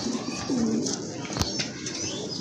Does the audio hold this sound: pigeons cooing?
yes